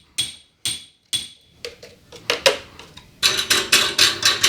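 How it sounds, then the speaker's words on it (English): A loose car exhaust heat shield rattles with sharp metallic clanks, first a few separate hits, then a faster run of tinny rattling, close and loud. "there is this rattle here, which is kind of annoying, so I'll look into that."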